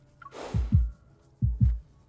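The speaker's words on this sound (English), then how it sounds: "it's so quiet that I can hear my heartbeat" Heartbeat sound effect in a quiet stable, two pairs of deep, thumping lub-dub beats, loud and close, with no talking.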